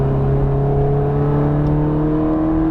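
A Ferrari F430 Scuderia accelerates on a race track at Las Vegas Motor Speedway, its engine a steady, loud, close whirring drone with a slowly rising pitch as the throttle is fed in gradually.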